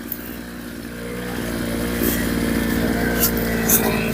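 A weed cutter machine fitted with a five-leaf blade runs and cuts weeds between plants, its small engine buzzing steadily and rising slightly as it works, with a few sharp clicks of the blade striking growth.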